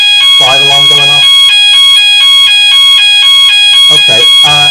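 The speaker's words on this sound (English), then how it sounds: "got that bit of a fire alarm going off" A fire alarm blares with a loud, continuous electronic tone during a live student election debate indoors, with people talking over it at the start and end.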